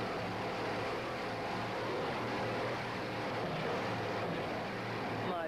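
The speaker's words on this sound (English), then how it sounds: "right now you get an idea of what kind of job Pierre has done with these monster machine inboards" A racing boat driven by powerful monster inboard engines runs in 1989, producing a steady, unbroken engine roar mixed with rushing water that stays constant throughout.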